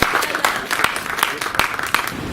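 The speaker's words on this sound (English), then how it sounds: "If you can give a round of applause for our owners for the lovely presentation throughout the campaign" Audience applause for the owners at a property auction in Noble Park, a dense wash of clapping with sharper individual claps poking through, steady and fairly close for a couple of seconds.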